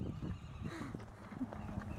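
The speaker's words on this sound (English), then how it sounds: "Oh, and my horse just trots off when her horse trots off." A horse trotting while pulling a driving cart around town, hooves clip-clopping in a steady, close rhythm with some low rumble from the cart throughout.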